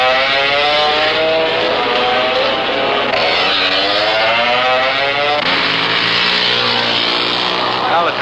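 A drag racing machine's engine roars loudly and steadily, its pitch sweeping up and down through repeated revving surges, with a voice faintly audible beneath the din.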